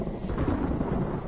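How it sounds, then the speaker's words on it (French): Low, rolling thunder from a storm in a horror film forms a brief, steady rumble at moderate distance, with no voices over it. "C'est qu'un petit orage."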